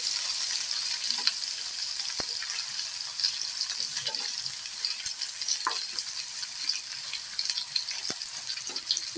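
Thinly sliced potatoes sizzle in a pan of hot oil for a tangra fish curry. The frying hiss is steady and close, broken now and then by soft clicks of stirring.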